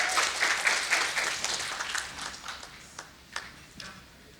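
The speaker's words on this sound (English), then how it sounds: "Can we have a huge round of applause for her?" Audience applause at a business panel discussion on lending and data analytics: a burst of clapping that thins out into a few scattered, separate claps as it dies away.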